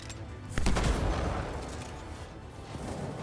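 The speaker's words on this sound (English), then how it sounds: "Ooh, they do have guns. Okay, they can shoot." Enemy gunfire in the video game Anthem: a sharp burst of overlapping shots at the start, with a dense, rumbling volley that slowly fades and thins over the next few seconds, with no talking.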